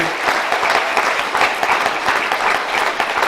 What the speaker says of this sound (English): big round of applause for everyone that helped make this in any way